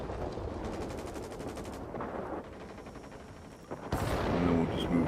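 Rapid aircraft gunfire strafing an anti-aircraft emplacement in the World of Warplanes video game, with dense bursts over a steady engine drone and a louder, sharper volley near the end.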